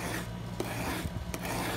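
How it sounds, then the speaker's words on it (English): Steel chisel rubbed back and forth on a coarse sharpening stone, giving a steady close rasping scrape throughout with a couple of brief sharper strokes, no voices. "we're on the coarse, so that's going to take metal off pretty quick"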